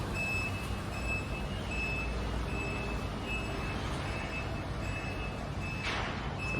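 A multi-level car parking lift slowly lowers a car, giving a steady, evenly spaced electronic beeping over a constant low mechanical hum.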